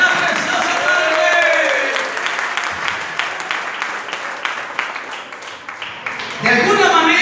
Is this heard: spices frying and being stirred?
no